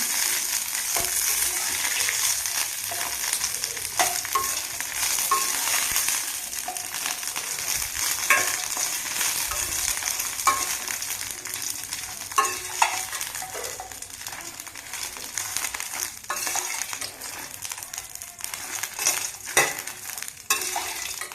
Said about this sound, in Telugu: మిరగాయలు అయితే మాడకుండా వేయించుకోవాలండి